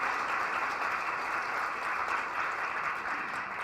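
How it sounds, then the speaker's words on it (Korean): Steady, dense applause from a university lecture audience welcoming the university president at an anniversary special lecture, a continuous wash of clapping throughout, moderately distant with no talk over it. "한번 박수로 맞이해 주시기 바랍니다."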